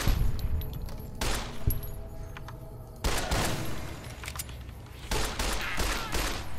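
Gunfire from a gun in Fallout: New Vegas, several loud, sharp reports in quick bursts, each shot cracking out and then trailing off into a rumbling tail, spaced irregularly across a few seconds.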